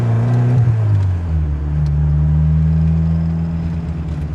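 A 1978 MGB GT fitted with a turbocharged Miata engine pulls hard under acceleration, its low engine drone holding steady and close, with a rising pitch early before settling into a sustained loud hum.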